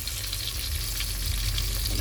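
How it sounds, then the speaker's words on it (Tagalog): Fish frying in a hot pan for a home-cooked dinner, a dense, steady sizzle and crackle of oil heard up close, loud and unbroken, with no talking. "Ito yung prito natin."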